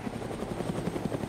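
A biplane drones overhead in the Wasteland video game, a steady, continuous engine hum with a buzzing, rotor-like pulse that holds at an even loudness throughout.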